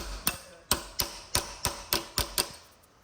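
Eight sharp metallic taps from a small hammer on a Hyundai Getz clutch plate, fairly evenly spaced and close by, each ringing briefly before the next strike.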